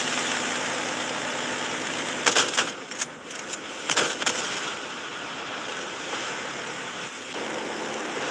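A boat engine idling at sea beside waves, a steady broadband rumble running throughout with a few brief clattering bursts in the middle; no talking.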